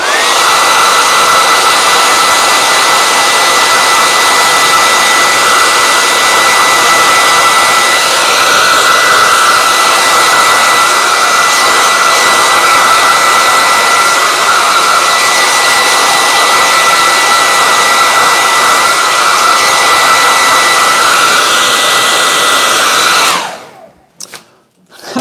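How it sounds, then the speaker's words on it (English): A hair dryer roars loudly and steadily for a long stretch, drying gold paint on an abstract painting, then clicks off abruptly near the end. "whenever I turn the hairdryer on, all of the small pieces of collage go flying"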